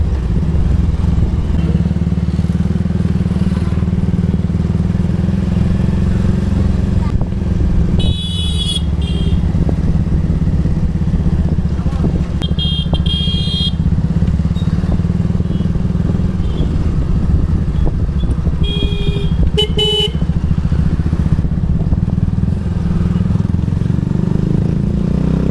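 A motorcycle ridden through Kaliahata ghati in Keonjhar in summer gives a continuous engine hum with a mechanical rattling chain-like clatter underneath and a few brief, sharper bursts of noise along the way.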